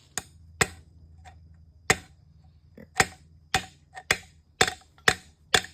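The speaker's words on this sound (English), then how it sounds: "I'm putting the pry bar on the little teeth of the flywheel here. And I'm just going to tap it real nice and easy." A pry bar taps the flywheel teeth of a 2005 VW Passat TDI with a BHW engine during engine removal: about ten sharp metallic knocks in a loose, uneven rhythm, with a low hum underneath.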